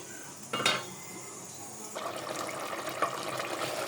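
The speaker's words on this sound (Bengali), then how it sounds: "এখন ভালো করে শুটকি কষায় নেই।" Dried fish (shutki) sautés with garlic paste in a pot, giving a steady low sizzle with a sharp scrape of a spoon against the metal and occasional faint clinks.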